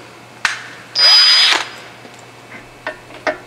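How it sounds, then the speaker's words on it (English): Drill motor fitted with a counterboring tool cutting into an engine block during a thread repair, a sharp whirring burst of about half a second, followed by a few brief clicks and taps. "I'm going to put my counterboring tool in my drill motor."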